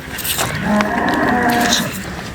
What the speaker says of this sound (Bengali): দর্শকরা দেখতেই পাচ্ছেন, খুব সুন্দর গাভী।